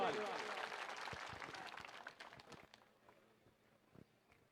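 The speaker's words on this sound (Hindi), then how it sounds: "जोरदार तालियों से स्वागत करें हनुमान जी बेनीवाल।" Crowd applause greets Hanuman Beniwal at an outdoor political rally in Sardarshahar, loud at first and then thinning and fading over a few seconds.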